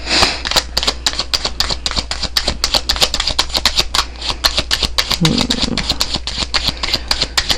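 Tarot cards are shuffled continuously and close up, a dense run of rapid crisp riffling flicks, with a brief voice speaking partway through.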